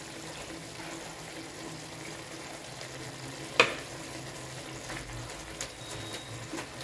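Curry simmers in a cooking pot, giving a faint, steady bubbling sizzle throughout, with one sharp click partway through and a couple of lighter taps later.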